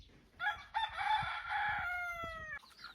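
A feral rooster crows a long, loud cock-a-doodle-doo close by, the call rising in stepped bursts then holding a sustained final note before cutting off, with no talk over it.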